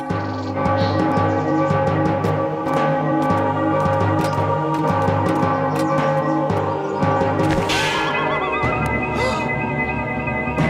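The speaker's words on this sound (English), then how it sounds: "how can anyone read anything with that annoying bell?" A church bell rings loudly among dense overlapping tones, with a horse-like whinny breaking through near the end.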